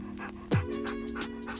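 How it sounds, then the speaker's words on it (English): A dog panting after a play outing, quick rhythmic breathy puffs repeating close to the microphone over a steady low hum, with one brief louder sound partway through. "Some panting ASMR for you."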